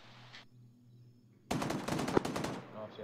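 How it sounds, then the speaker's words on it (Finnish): Gunfire in the video game Arma 3 erupts after a quiet stretch as a loud, rapid burst of automatic fire with a dense run of crackling shots lasting about a second, preceded by low engine hum. "No siellä ammutankin."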